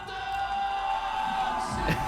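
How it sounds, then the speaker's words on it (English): Crowd at the 2019 PBWC & PBIWC award ceremony cheering and whooping continuously, a dense mid-distance roar of voices with a swell near the end. "another round of applause and scream out your soul"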